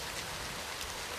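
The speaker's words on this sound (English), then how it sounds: "Rain!" Steady rain pours down in a dense, even hiss that fills the whole short stretch, close and fairly loud, with no voices over it.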